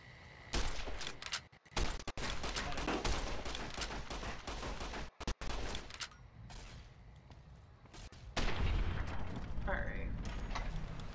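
A varmint rifle fires in Fallout: New Vegas, with sharp shots and bursts mixed into loud, busy game combat noise and mechanical clatter, briefly dropping out twice before the action resumes.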